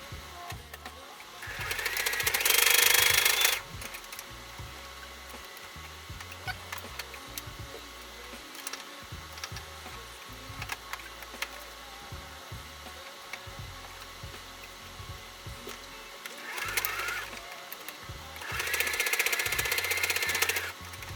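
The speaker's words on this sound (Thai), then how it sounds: "จากนั้นเราก็จะนำชิ้นงานไปเย็บค่ะ เราจะเย็บขอบด้าน นี้ด้านนี้ด้านนี้แล้วก็ด้านนี้นะคะ" A sewing machine stitches the edges of a fabric box wallet for cards, with two loud, close bursts of rapid whirring stitching separated by quieter handling clicks and light rattles.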